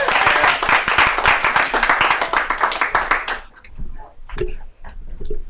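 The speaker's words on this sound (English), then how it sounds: "Give a round of applause for Brian" An audience at a comedy night claps loudly for an incoming comedian, a burst of dense clapping that thins into scattered claps and fades out, followed by quieter room sounds.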